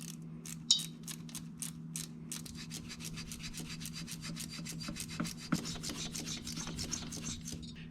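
Wrench snugging bolts on a Harley Softail/Touring gearbox transmission top cover, a quick series of rapid ratchet clicks and metallic rubbing, close and fairly quiet over a low hum.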